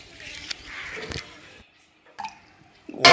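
Guava leaves are rinsed by hand in water, with splashing and dripping in short bursts, a brief near-silent pause, and then a sharper splash at the end.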